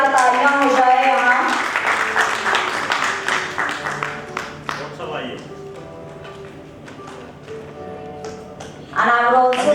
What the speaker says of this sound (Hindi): जोरदार तालियां हो जाए यहाँ।